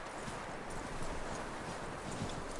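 Horse hooves clip-clop over a dense, noisy background in the video game Red Dead Redemption 2, a steady walking rhythm heard at moderate distance without clear speech.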